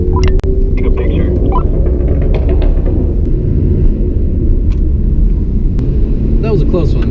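A car engine revs and rumbles loudly and continuously in the foreground, while people talk over it.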